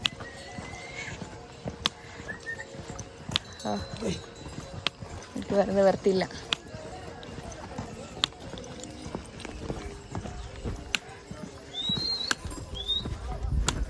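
Mule hooves clip-clop in scattered, light steps on a Nepal trekking trail, with birds chirping around and someone talking throughout.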